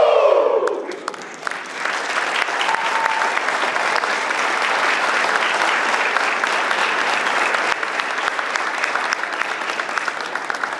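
Graduation crowd at a Trenton fire academy ceremony for new firefighters: a voice gives a brief whoop, then sustained loud clapping and cheering that holds steady for several seconds.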